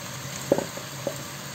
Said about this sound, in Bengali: সব কিছু আমি এবার এই মশলার সাথে একটু ভেজে নেব।